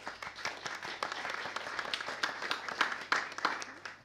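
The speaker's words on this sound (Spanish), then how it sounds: "Un aplauso, por favor." A conference audience at a panel discussion on audio and brand content applauds a speaker being introduced, with moderate, scattered clapping heard from a distance that swells slightly toward the end.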